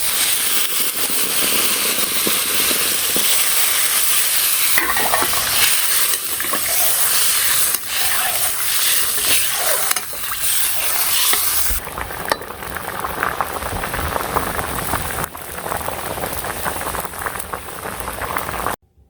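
Water poured into a pan of curry sizzling over a village cooking fire, a loud steady hiss and crackle that drops to a rougher bubbling sizzle partway through, with no talking.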